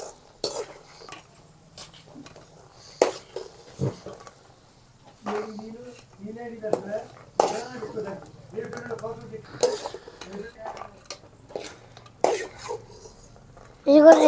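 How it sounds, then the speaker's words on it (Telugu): Peanuts frying in oil are stirred with a metal utensil in a pan, producing repeated scraping and clinking strokes at irregular intervals over a faint sizzle, close and moderately loud, with soft murmured speech between. "నేను తిప్పుకుంటూ ఉన్నాను"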